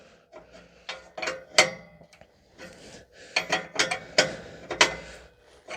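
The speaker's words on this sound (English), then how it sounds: "Grab the 22 wrench and snug it up." A 22 mm wrench snugs an oxygen sensor into the exhaust of a 2015 Toyota Sienna 3.5 V6, producing close metallic clicks and scraping taps in uneven bursts with short gaps, and no talk.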